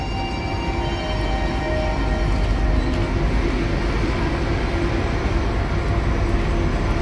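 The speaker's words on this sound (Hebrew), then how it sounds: "בתחנה זו חולפות רכבות מהירות" A train passing through Haifa Hof HaCarmel station, producing a continuous heavy rumble with rail clatter that holds steady and loud throughout, with no voices.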